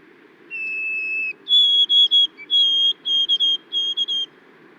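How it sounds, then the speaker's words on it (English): A white-throated sparrow song plays loud and clear: one long pure whistled note followed by a series of higher, evenly spaced whistled phrases, alone over a faint background hiss. "White-throated sparrows are really common across Newfoundland in quite large numbers."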